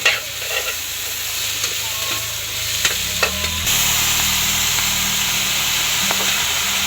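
Vegetables and tofu stir-fry in a pan as lumpia filling, with clattering stirring scrapes and taps, then the sizzle swells louder and stays steady, close and without talk.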